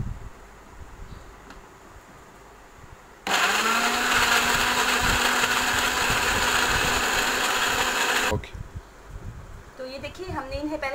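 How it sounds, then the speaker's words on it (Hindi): A kitchen blender whirs loudly and steadily for about five seconds, blending cream and sugar syrup for a piña colada, then cuts off abruptly, with quieter kitchen noise and brief talk around it. "अब हम इसे ब्लेंड करेंगे"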